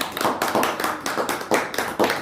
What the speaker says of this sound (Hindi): हम आग्रह करेंगे समस्त दर्शकों से कि सरदार पहलवान जी का जोरदार तालियों के साथ में स्वागत करें।